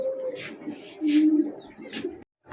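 Female pigeons coo close by in soft, throaty, repeated calls, with a few low murmurs running together.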